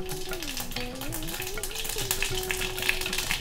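Mustard and fenugreek seeds frying in a hot pan give a dense, continuous crackling sizzle up close, with a faint steady tone droning in the background.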